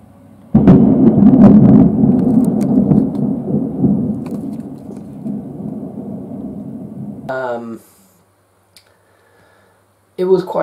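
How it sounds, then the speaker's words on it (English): A long night thunderstorm rolls on, with heavy rumbling thunder and steady rain filling most of the stretch before fading. A voice speaks briefly near the end. "you tend to get thunderstorms."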